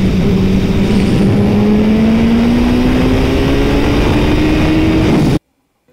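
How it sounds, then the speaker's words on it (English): A Turbo Hayabusa motorcycle pulls wide open in third gear from about 90 to 145 mph, its loud engine note climbing steadily for about five seconds before cutting off abruptly. "So first up on the docket, we have the Turbo Hayabusa. doing a 90 mile per hour start here."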